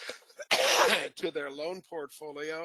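A single sharp sneeze bursts out during a November 2022 round-table talk on loan portfolios, loud and close, with a man's speech before it and resuming right after.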